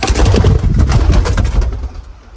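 Pigeons cooing at a nest, loud close throaty coos and rumbling warbles filling the short moment before fading out.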